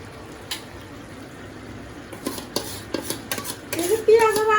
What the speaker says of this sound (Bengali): এখন এইভাবে আস্তে আস্তে কষায় নিব